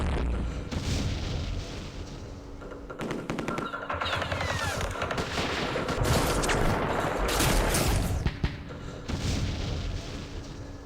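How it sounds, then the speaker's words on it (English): Mortar fire in the Vietnam war game Campaign Series Vietnam, heavy thudding booms and explosions mixed with rattling automatic gunfire, loud and dense throughout with a sharp crack near the end. "Mortars."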